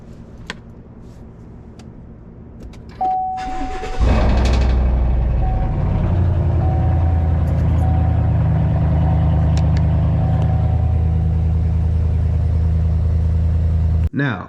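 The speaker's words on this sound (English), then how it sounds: "hit your remote start button," A car engine is started by remote start, with a short whirring crank, then settles into a steady, loud, close idle rumble that continues for about ten seconds.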